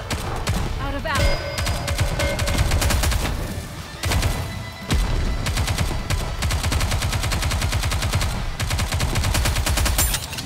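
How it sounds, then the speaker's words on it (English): Sustained rapid gunfire in the mobile shooter Goddess of Victory: Nikke, dense automatic bursts rattling almost nonstop with a brief break near the middle, game music and voices underneath. "We need to fire straight ahead."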